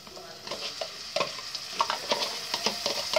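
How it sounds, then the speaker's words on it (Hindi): Masala with tomatoes sizzling in a pan while a spoon stirs it, giving soft scraping strokes and clinks over a steady low fry; no one speaks. "तो चलिए मैं मसाला भून लेती हूँ।"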